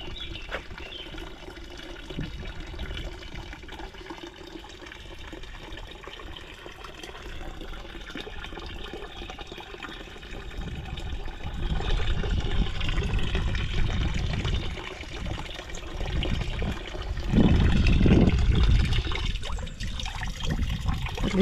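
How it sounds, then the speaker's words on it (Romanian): An old drinking water fountain runs steadily, a trickling stream of water that grows louder and splashier partway through, heard close and alone without speech. "O fântână veche. Această zonă este plină de asemenea fântâni cu apă potabilă."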